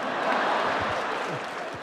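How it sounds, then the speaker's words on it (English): Studio audience cheering and clapping in a brief burst of applause, loud at first and tapering slightly toward the end. "Stop cheering, you asshole."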